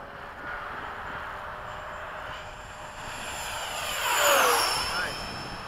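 A model F-15 jet airplane makes a fast fly-by pass, its whine rising to a loud peak near the listener and then sweeping downward in pitch as it moves away, alone without talk.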